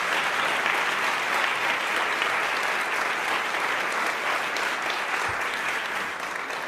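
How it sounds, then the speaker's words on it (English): An audience applauding at the close of a campus debate on affirmative action, producing a dense, sustained burst of clapping from many hands that holds steady and loud throughout, then eases slightly at the end. "So I just want to invite a round of applause to all of them for the way that they did this."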